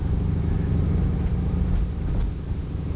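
A Project 302 car engine with a carburetor calibration issue, heard from inside while it cruises along: a loud, steady low rumble with a slight swell and dip, continuous throughout.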